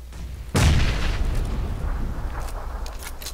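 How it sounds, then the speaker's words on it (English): Grenade explosion in PUBG, a single loud, close blast that hits abruptly and then rolls into a long fading rumble, with no voice over it. "They threw a grenade,"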